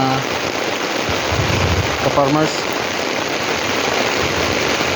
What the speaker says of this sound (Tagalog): Yan, malakas ang ulan.